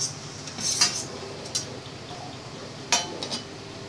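Boiled potatoes are spooned into a pot, with a couple of distinct metallic clinks of spoon against pot over faint background hiss and light liquid sounds.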